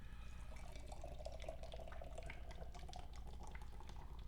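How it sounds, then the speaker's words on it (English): Treehouse Brewing IPA pours steadily into a glass in an aggressive pour, giving a continuous close liquid splash and fizz with a faint gurgle and no talking. "let's pour this up and see what we're dealing with here"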